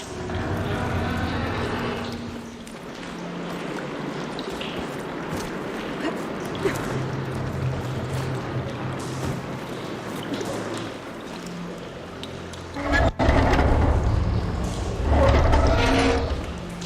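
Water flowing through a room after a valve is opened in the video game Horizon Forbidden West, a continuous trickling, pouring wash under mechanical rumble, with louder surges near the end.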